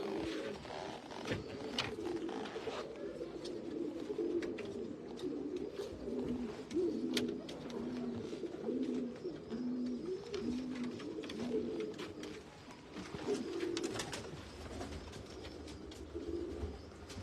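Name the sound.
pigeons cooing in a breeder's loft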